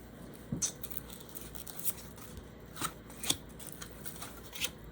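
Tarot cards are shuffled quietly, with soft papery riffles and taps in irregular bursts at close range.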